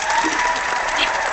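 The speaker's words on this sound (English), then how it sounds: "Do the applause again." A short burst of crowd-style applause plays as a sound effect at a youth night event, brief, bright clapping over about a second.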